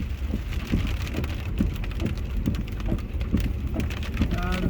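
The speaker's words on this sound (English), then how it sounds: "It just goes to hard rain." Hard rain pours down and begins turning to hail, a dense steady patter with many sharp individual impacts clicking through it, sustained and fairly loud for several seconds.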